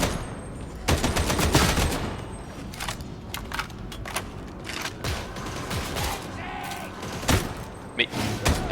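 Gunfire in the video game Warhammer 40000 Darktide: bursts of rapid shots and single cracks with mechanical clanks and creaks, loud and up close, while a player talks over part of the action.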